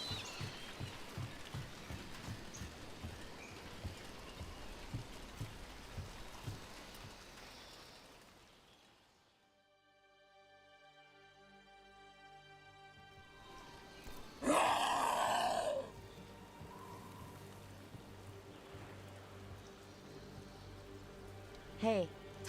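Rain falling in Dragon Age: The Veilguard while a character climbs to a high place, a dense hiss of rainfall that fades out midway, followed by a sustained musical tone and a brief loud vocal-like cry before the rain returns.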